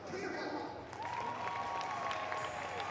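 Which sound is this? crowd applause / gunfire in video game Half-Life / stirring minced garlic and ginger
crowd applause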